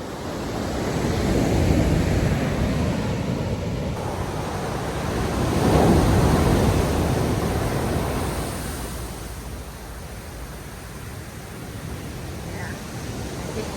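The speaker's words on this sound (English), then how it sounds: "Those are some strong waves, but it's so beautiful out here." Strong ocean surf pounds the California coast near Big Sur, Carmel and Monterey. Broad roaring waves swell and recede in rolling surges, with wind buffeting the microphone throughout.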